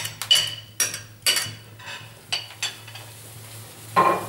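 Potatoes dropped into a simmering stew pot of mandrajos, a dish from Albánchez in Almería, making a handful of sharp clinks and plops spaced about half a second apart over a steady low hum, with a last splash near the end.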